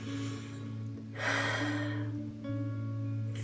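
A single deep breath drawn in over about a second, soft and close, over a low steady hum, with no talking.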